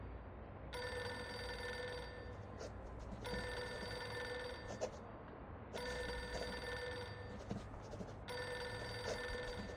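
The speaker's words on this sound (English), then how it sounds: "Pick up the phone already." A telephone in the video game Reverse: 1999 rings in repeated bursts, with four evenly spaced electronic bell rings over quiet background sound.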